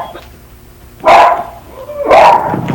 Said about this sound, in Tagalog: Tumatahol.